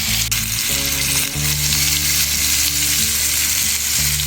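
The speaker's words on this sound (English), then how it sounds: "You hear that sizzling?" Bacon and meat frying in a pan with butter, a loud, close, continuous sizzle with a steady crackling hiss and no voices.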